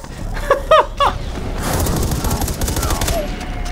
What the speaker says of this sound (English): I inadvertently broadcasted the trigger code for your grenades over the intercom and primed several grenades to explode.